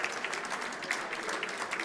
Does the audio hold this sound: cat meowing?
no